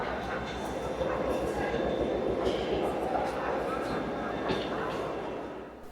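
Busy ambience at Edinburgh Waverley train station: a low rumble of trains and rolling wheels with distant announcements and echoing voices under a steady hum.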